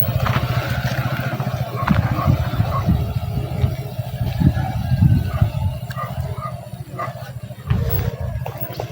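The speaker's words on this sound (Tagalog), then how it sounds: "Marahan lang magpatakbo yung motor." A motorcycle rolls slowly along a village road, its engine putting steadily at low revs with small throttle swells, while people talk over it throughout.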